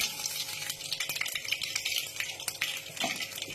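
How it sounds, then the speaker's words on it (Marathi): Mustard and fenugreek seeds crackle and sizzle in hot oil, with irregular pops and a spoon scraping and stirring in the pan. "त्याच्यानंतर मेथी थोडी घालायची आहे"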